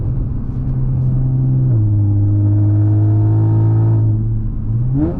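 Audi B8.5 S fitted with an ARMYTRIX valved catback exhaust accelerating hard, a loud, steady engine drone rising in pitch through a gear change, close and continuous with no talk.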